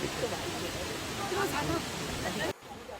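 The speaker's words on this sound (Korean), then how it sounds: "물소리가 상당히 크게 들렸습니다." Water from the second falls of Cheonjeyeon Waterfall on Jeju Island roars in a steady, loud, dense wash of noise, then drops away abruptly near the end.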